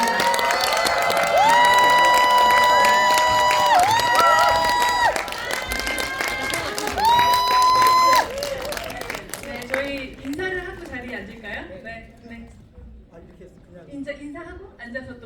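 An audience at a film screening Q&A applauds and cheers as actors and the director are welcomed. Loud music dominates at first, then a dense crackle of clapping and scattered voices carries on as the music drops away.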